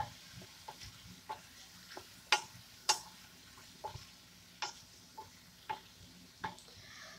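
Chicken wings and pechay stirred in a pan, seasoned with pepper: a series of scraping utensil strokes, a few sharper clacks, over a low steady sizzle, close and moderately loud, with no one talking.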